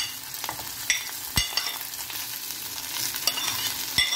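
Green chili and cumin sizzle in hot oil in a pan while being stirred for a Navratri fasting thali, a steady close frying hiss broken by a few sharp scrapes and taps of the spoon, with no talking.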